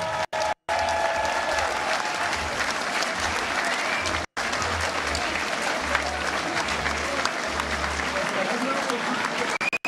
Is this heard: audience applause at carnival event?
yes